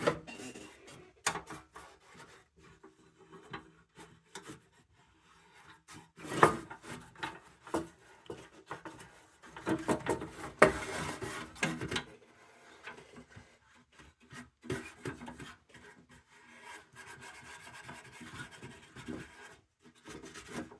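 Finish being rubbed off a vintage Lisk lunchbox pail, irregular scratchy rubbing strokes and occasional knocks, mostly quiet with louder bursts in the middle.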